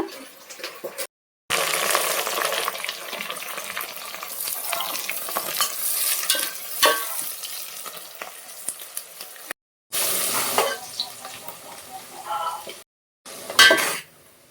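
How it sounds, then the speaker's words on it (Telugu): Onions frying in a pan for a goat head curry, a loud close sizzle with spatula stirring and scraping, interrupted by brief silent gaps and a few clanks of metal. "ఇప్పుడైతే ఉల్లిపాయలు వేగిపోయినాయి."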